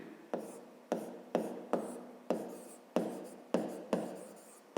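Pen strokes on paper while writing out a geometry definition by hand: a close, quiet series of about ten regular scratchy strokes, each a sharp start that fades, with no talk over them.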